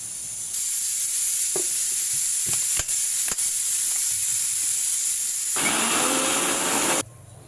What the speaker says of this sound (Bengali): ডালটা এখন আমি ব্লেন্ডার করে নেব।